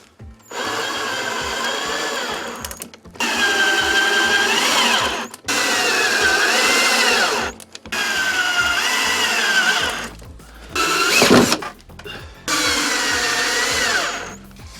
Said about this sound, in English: We're going to screw the headboard to the frame now from the back.